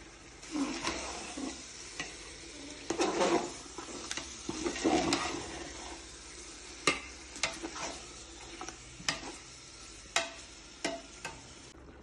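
Chicken pieces cooking in a covered pan for a seeraga samba biryani, a steady soft sizzle with occasional stirring scrapes and sharp clinks of the lid or spoon throughout, close and alone without talk.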